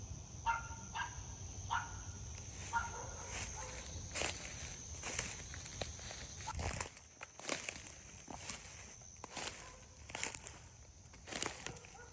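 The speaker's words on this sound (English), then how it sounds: "It feels a little bit like walking on sponge" Footsteps walking over soft, spongy creek-bank ground, a series of crunchy, irregular steps close by with faint crinkling of debris and an outdoor hum.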